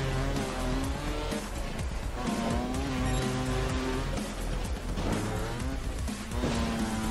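Motorbike engine in the game Trials Fusion revving hard and continuously, a loud harmonic drone that rises and falls in pitch over several seconds, filling the whole stretch with steady game engine noise.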